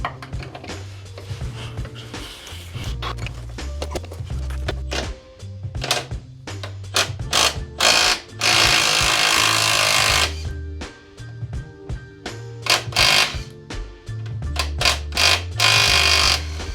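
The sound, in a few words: tool removing nuts and bolts from car control arm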